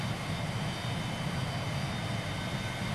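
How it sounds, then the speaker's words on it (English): A jet engine mounted on top of a train in Transport Fever roars as a steady, dense whoosh, continuous and fairly loud throughout, with no voices. "I'm assuming the noise is this jet engine on top"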